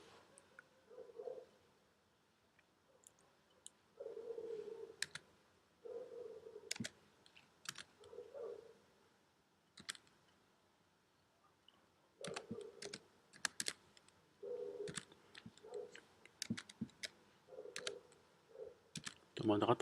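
Someone types a contact's name on a computer keyboard in Skype, with quiet, close clicking keystrokes in short bursts spread through the clip and a low voice murmuring between them.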